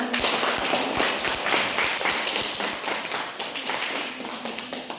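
Dense, steady applause from an audience at a village office event, honouring the village head, with many overlapping claps running throughout at even loudness.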